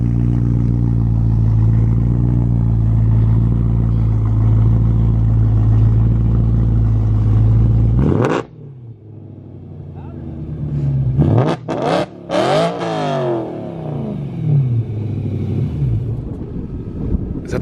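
A car engine idles loudly and steadily, then cuts off abruptly before several sharp revving bursts climb and fall, up close with other cars lined up on a canyon run.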